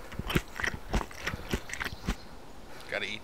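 Someone chews canned sardines close to the mic, a string of wet crunching bites and squishy mastication clicks in uneven rhythm, loud and near, with no talking over it.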